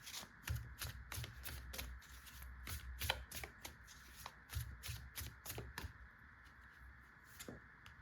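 Tarot cards shuffled by hand during a pick-a-card reading, a quick run of crisp, close riffling slaps that thins out and fades toward the end, quiet and with no talking.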